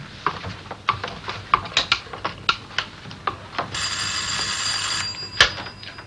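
A telephone rings in a 1963 German film comedy: a steady electric bell trill sounds for about a second and a half at moderate loudness, preceded by a series of light clicking, ratcheting mechanical taps and ending with a sharp click.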